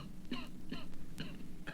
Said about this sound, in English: You mustn't cough like that.